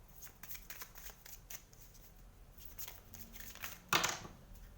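Tarot love cards are shuffled by hand in quick, soft riffling bursts close by, ending with a louder snap of the deck.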